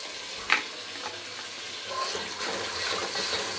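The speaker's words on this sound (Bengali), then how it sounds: "ভালো করে কষিয়ে নিতে হবে।" Spices and a spoon of ketchup sizzle in a pan for Bengali bhuna khichuri, with a sharp clink near the start followed by soft stirring and rising, steady frying hiss, close and moderate.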